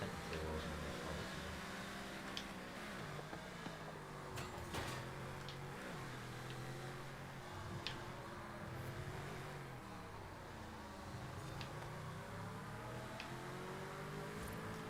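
Car engine in a racing game revving and shifting through gears, a mid-pitched drone that rises and falls with occasional clicks and knocks, fairly faint and steady throughout.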